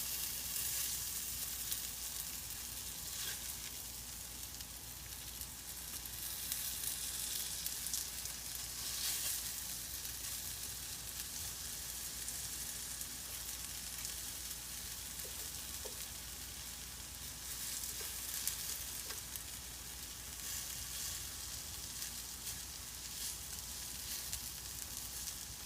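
Vegan fishcakes fry in a hot pan, a steady, dense sizzle that holds evenly throughout with faint crackles and no talking.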